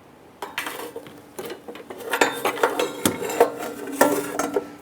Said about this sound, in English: we're going to use our 18mm wrench on the nut side here